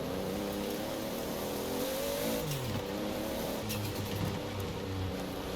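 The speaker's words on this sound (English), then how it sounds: "once you get the car under load, it definitely does sound a little bit better here in the game" A Toyota Supra's 2JZ engine under load in Forza Horizon 4, a steady, loud in-game engine drone whose pitch rises and dips through gear changes, with no talk over it.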